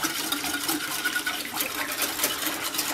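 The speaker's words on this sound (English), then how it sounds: "you just whisk it up really, really good" Honey garlic soy sauce mixture for pork chops whisked briskly in a bowl, a steady wet swishing and clatter that runs continuously and fairly close.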